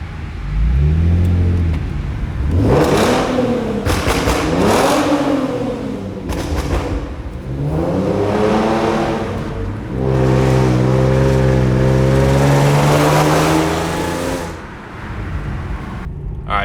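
A Hyundai Genesis Coupe 3.8 engine revs repeatedly through a loud performance exhaust, rising and falling in several bursts before holding a long, throaty high rev, close and loud.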